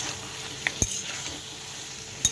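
Lentil dumplings (bori) fry with a steady low sizzle in a pan, broken by a few sharp clinks and scrapes of a spoon stirring, all without talk.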